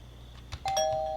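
A doorbell rings inside the video game Thief Simulator: a couple of soft knocks, then a bright electronic chime that sustains and rings on clearly at close range.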